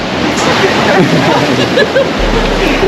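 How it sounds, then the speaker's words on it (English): Water splashing at a resort pool, a steady loud wash of spray and churning water filling the whole stretch, with a low rumble coming in near the end and people talking over it. "Watch the splash, watch the splash."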